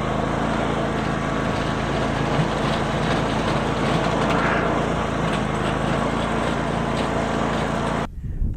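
A mower cutting hay in a yard drones continuously, a steady, close engine rumble that runs for about eight seconds and then abruptly stops, with no talk.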